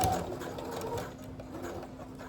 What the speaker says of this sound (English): I'm gonna stitch it here. Just put in 2 rows.